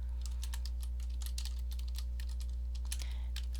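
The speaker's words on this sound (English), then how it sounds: "I'm going to type it in" Rapid, uneven keystrokes on a computer keyboard as code is entered, close and steady with irregular pauses over a constant low electrical hum, no talking.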